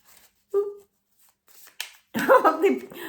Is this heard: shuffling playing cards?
yes